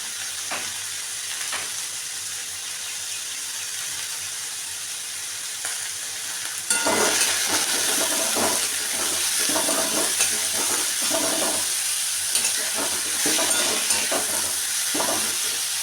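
Potatoes and onion fry with salt and turmeric in a pan, a soft hiss that jumps to a louder, crackling sizzle partway through, with repeated stirring scrapes and no voices.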